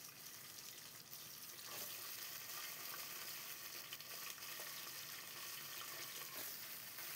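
Washed chicken pieces sizzling and frying in hot oil for a home-style chicken curry, a steady, fairly quiet crackle with faint stirring clinks and no voices.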